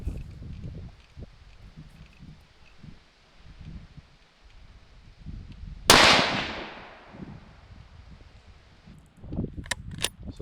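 A single sharp, loud Winchester M70 .308 rifle shot cracks out with a fast-decaying ring, amid quiet outdoor rustling and faint scuffs before and after.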